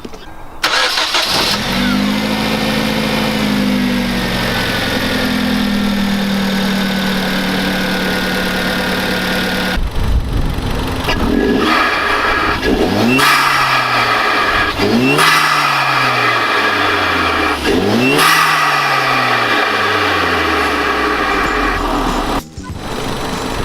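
A Hyundai Genesis Coupe 2.0T fitted with a K&N performance air intake cranks and starts, settles into a steady idle, then is revved several times in repeated rising and falling bursts, loud and close.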